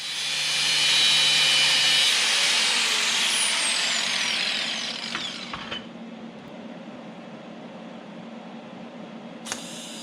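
A power tool cuts into the weld joint of a K&T clutch shaft with a loud, close, hissing grind for about five seconds, then stops, leaving low background hum and a sharp click near the end.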